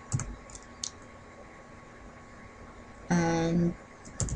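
Sparse keystrokes typed on a computer keyboard to enter router configuration commands: a few light clicks at the start and end, separated by a quiet stretch and a short tonal burst in the middle.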